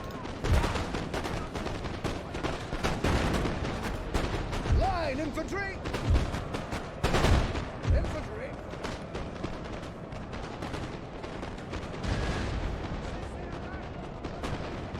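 Musket volleys and artillery fire in a Napoleonic battle in the Napoleon: Total War video game, with a steady din of crackling shots and repeated deep cannon booms, and a voice talking throughout.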